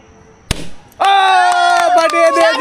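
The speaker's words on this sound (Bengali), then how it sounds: "ফাটিয়ে দিয়েছে, এবার লালটাই ফাটিয়েছে তরি।" A red balloon bursts in a single sharp pop during a children's game, followed moments later by a loud, sustained voice or whistle-like tone.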